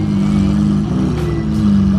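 A twin-turbo Lamborghini Aventador engine rumbles loud and close, its deep throbbing note rising and falling with revs for a couple of seconds.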